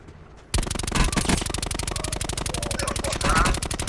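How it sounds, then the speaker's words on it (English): Sustained rapid automatic gunfire from enemies in a first-person shooter video game, bursting in loud and dense after a quiet moment and rattling on continuously with overlapping shots, while players talk over it. "Somebody's firing at me, guys. He's firing at us."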